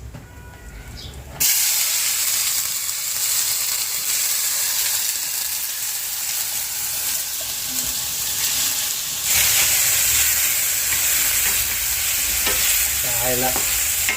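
Chopped onions hit hot oil for Maggi noodles, and a loud, steady sizzle and frying hiss fills the kitchen, surging again partway through as the pan is stirred.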